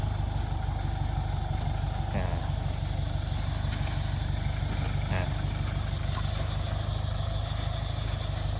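A farm tractor engine runs while ploughing to prepare soil for planting cassava, a loud, steady low drone that continues without a break throughout.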